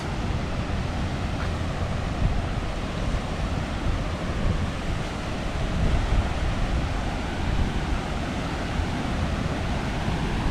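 Waterfall at Sioux Falls, a steady broad rushing roar of falling water, constant and fairly close, with some wind buffeting the microphone.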